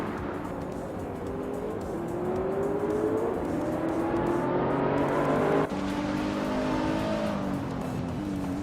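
Several race cars, led by a vintage 2004 Chrysler Viper, launch off the start at Termas de Rio Hondo in a racing video game. A loud, continuous roar of engines revs and climbs in pitch, with a sharp shift midway and no talking.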